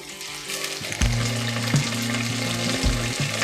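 Onion and mint fry in a pan for a Telugu-style soya veg pulao. A steady, close sizzle runs throughout, with a louder surge about a second in, beneath a tonal background.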